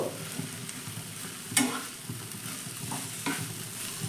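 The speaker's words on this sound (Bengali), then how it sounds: "এবার সব কিছু উপকরণ ভালো করেই আমি মিশিয়ে নেব" A spoon stirs and mixes finely chopped vegetable filling with a little chili in a pan, giving soft scraping strokes over a faint sizzle, with an occasional sharper clink of the utensil.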